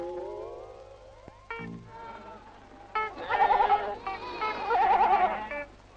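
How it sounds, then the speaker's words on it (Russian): Goat bleating in a village setting, several wavering, quavering bleats close by, loud in the second half, with fainter tonal sounds at the start and no clear speech. "Перед фотоаппаратом обычная коза."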